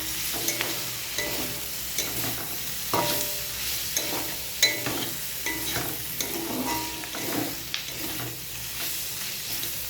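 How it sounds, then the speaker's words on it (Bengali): Frying food in a pan being stirred, repeated scraping and clattering strokes over a steady sizzle, close and fairly loud, without talk. "মাঝে একটু ঢাকনাটা খুলে এটাকে নেড়ে দিতে হবে।"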